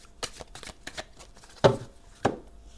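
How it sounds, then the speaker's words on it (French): Tarot cards being shuffled and dealt out for a reading, with soft papery riffles and light slaps followed by two sharper card snaps, close and clear with no talking. "on va aller tirer 9 cartes"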